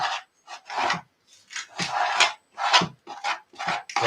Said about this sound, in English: having a go at applying some of this. I've never applied body filler to something like this.